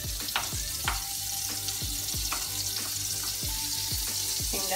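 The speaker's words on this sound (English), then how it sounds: "You melt the butter." Butter melting in a small pan for keto pancakes sizzles steadily and close up, with repeated clinks and scrapes of a utensil stirring through it.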